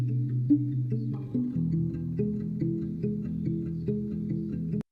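Totally dry acoustic guitar, unprocessed, for a sad pop cover of a song, strumming low sustained chords in a steady pulse at a soft level before stopping abruptly.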